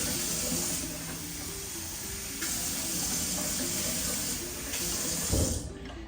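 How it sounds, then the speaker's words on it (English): Water pours steadily from a tap into a blender, a continuous hissing splash at close range, with a small thump near the end. "Now I'm going to add a little bit of water."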